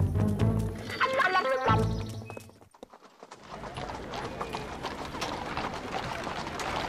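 Horse hooves clip-clopping in a Lucky Luke cartoon, a steady rhythmic trot mixed with music at first, then continuing alone after a short lull, fairly close.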